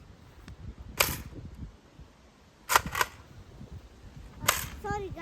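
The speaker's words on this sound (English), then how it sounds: "Now we are in the park, so we're gonna try this gun now." An air rifle fires outdoors in a park with three sharp, close cracks spaced a couple of seconds apart, while a voice speaks briefly and faint background rustle fills the gaps.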